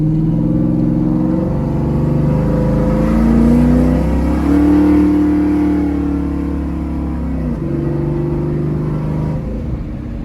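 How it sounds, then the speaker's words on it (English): A naturally aspirated Camaro drag car accelerates hard on a cool night, its engine droning loud and close with rising and shifting tones for the whole stretch, and no talk over it. "the car just picks up speed real nice, real easy"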